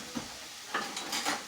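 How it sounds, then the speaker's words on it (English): A spoon stirs food in a pan on the heat with onions in it, a few scraping strokes over a faint sizzle, close and alone. "A little bit of a stir going on there"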